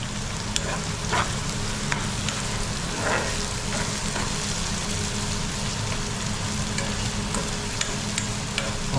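Sliced onion fries in hot oil with curry leaves in a pan, giving a steady, close crackling sizzle with occasional stirring scrapes and no talk.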